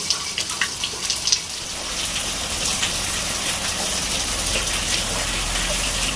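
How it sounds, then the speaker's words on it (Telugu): Rain pours down over farm fields in a steady, dense hiss of drops, with a few louder patters near the start. "వాన"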